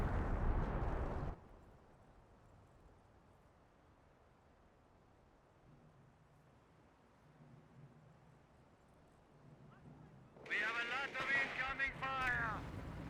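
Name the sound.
artillery barrage shell impacts in Company of Heroes video game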